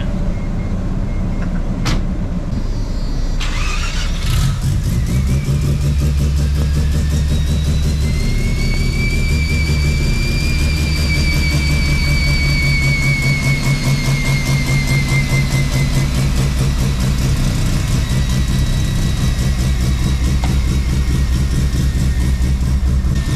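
Single turbo bridgeport rotary engine in a Mazda RX7 running on a dyno, loud and close, settling into a steady pulsing drone that climbs in pitch as it revs up and holds.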